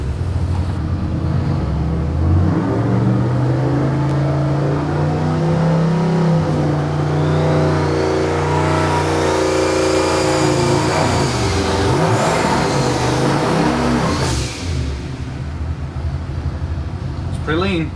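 Car engine on a dyno during a half-throttle pull, a loud, close drone that climbs steadily in pitch as revs build, then tails off near the end, with people talking faintly over it.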